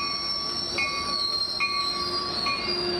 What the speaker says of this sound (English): As the train arrives